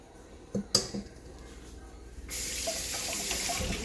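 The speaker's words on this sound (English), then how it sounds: "Rinse off the stickiness." Tap water gushes into a sink for rinsing sticky cookie dough off, starting after a few small knocks and clatters and then running steadily, close up.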